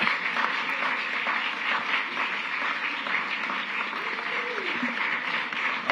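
Applause from an audience at a city commission meeting, a dense steady patter of many hands clapping that holds at an even level throughout, with some faint talk mixed beneath it.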